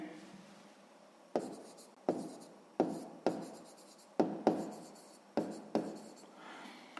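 Pen strokes scratch across paper while a sixth-grade math solution is written out, a rhythmic series of about eight close scratches and taps, each fading quickly before the next.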